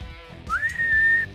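Referee's whistle in the football video game FC 24: one rising then sustained shrill blast of about a second, fairly loud over low game crowd noise.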